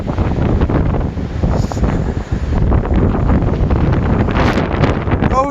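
Strong gusting wind of about 70 mph roars steadily across an exposed microphone outdoors during a windstorm, loud and continuous with buffeting surges throughout.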